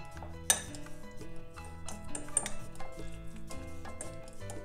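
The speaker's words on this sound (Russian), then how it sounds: "Добавляем пару ложек нерафинированного ароматного растительного масла. И хорошо растираем желтки." Egg yolks being worked with a couple of spoons of unrefined aromatic vegetable oil in a bowl for a cabbage salad dressing, giving close, steady scraping and clinking of a utensil against the bowl with no talking.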